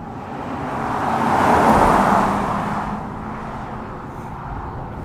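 A Mercedes CL600 C140 with its V12 engine drives along, giving a distant mechanical whir and muffled road rumble that swells gently to a peak and then settles to a steady hum.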